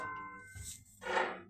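Treble church bell at Dunham Massey gives a short muffled ding with a lingering ring, close and fairly quiet, alone without talk.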